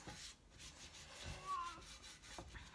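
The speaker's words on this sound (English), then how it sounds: "I'm just buffing it slightly." A cloth buffs clear wax on painted wood, making soft, faint rubbing strokes in an uneven rhythm, close by and quiet.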